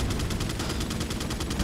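Weapon fire in the Resident Evil 4 video game, where an RPG rocket launcher is in use during the final boss fight against Osmund Saddler: a dense, loud, rapid rattling barrage with no pause.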